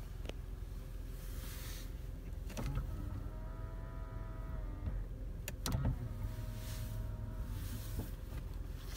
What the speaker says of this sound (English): you do have your fully electronic windows, just the one touch